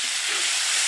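Dried chillies fry in hot oil in a wok, giving a loud, continuous, dense sizzle with no break.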